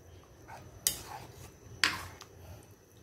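A spoon stirs a coconut milk curry of smoked haruan fish in a pot, giving two sharp metallic clinks against the rim over a faint, soft swishing background.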